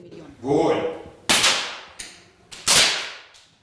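High-school students fire shots during shooting practice at a lyceum. A brief voice comes first, then three sharp, loud cracks in quick succession, each followed by a short echoing decay.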